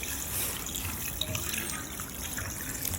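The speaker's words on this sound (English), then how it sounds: "So I add water to it." Water pours steadily into a cooking pot holding a stew of cow head and chicken, a continuous close, splashy rush that carries on without pause.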